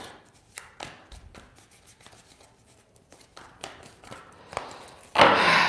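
Tarot cards handled and shuffled for an Aries reading, with soft taps and slides close by that build into a louder riffle at the end.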